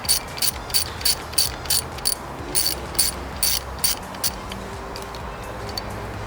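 A ratchet clicks in quick repeated bursts while loosening the nut on a motorcycle brake lever, the sharp rhythmic clicking close and alone, with short pauses between runs of strokes.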